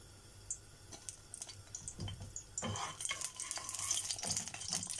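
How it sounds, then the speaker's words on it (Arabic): Eggplant frying in well-heated oil, a steady sizzle with scattered crackles and pops that grows louder and denser through the second half, alongside faint utensil clinks and stirring. "الزيت بيقدح، انا عايزاه يقدح بس كويس عشان لما احط البتنجان اديله صدمه"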